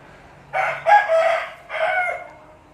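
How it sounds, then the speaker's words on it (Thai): Seven-month-old fighting cock crowing once, a close, clear multi-part cock-a-doodle-doo with a brief pause mid-call, against a quiet background. "ไก่เจ็ดเดือน"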